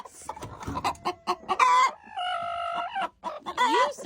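Hens and a rooster on a backyard egg-laying setup, with a broody hen giving drawn-out, wavering clucks and croaks among short sharp clucks, close and fairly loud, no talking.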